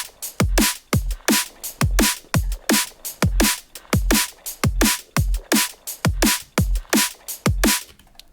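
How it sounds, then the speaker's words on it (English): A programmed drum loop for a backing track keeps a steady, even beat, with punchy kicks under bright, crisp hits repeating in a tight pattern. It is loud and close with no talking. "Let's listen to those drums now."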